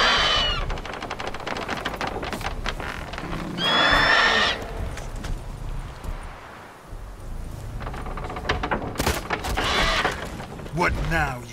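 A horse whinnies in the Witcher 3 video game amid hoof clatter and mechanical game sounds, fairly loud and close, with two neighing bursts and some talk mixed in.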